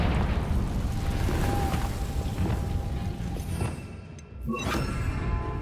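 Confringo fire spell blast in Hogwarts Legacy, a loud roaring explosion rumbling steadily for several seconds, dipping briefly before a sharp burst and crackling tail.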